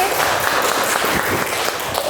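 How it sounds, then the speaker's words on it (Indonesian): Children in a sixth-grade classroom give a round of applause, a steady dense patter of small hands clapping at moderate loudness for about two seconds, with faint voices mixed in. "Kasih tepuk tangan lagi"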